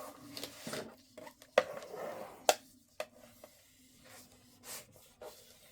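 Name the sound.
burnishing folded paper tab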